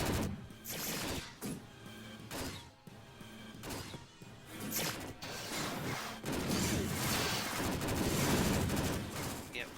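Flash missiles firing in the video game Descent 2, a run of sharp bursts and crackling blasts with mechanical whirs and a steady game drone, dense and loud throughout.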